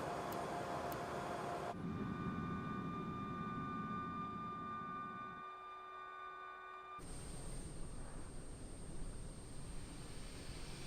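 Engine number 1 of an Embraer E175 spools up in a flight simulator game, a steady turbine whine with sustained tones that shifts to a broader roar partway through, with no talking.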